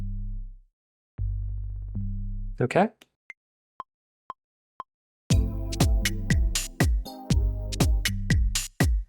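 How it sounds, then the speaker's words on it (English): Synth bass notes played in Maschine software for a smooth jazzy house beat: long low sustained tones, then a busy run of short punchy bass hits with clicks, with a brief spoken word in between. "Let's try these bass sounds now."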